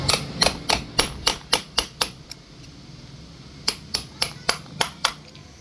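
Sharp metallic hammer blows ring out in two rhythmic bursts of about eight strikes each, separated by a short pause, hammering out a water pump bearing from a Yamaha Sniper 155 motorcycle.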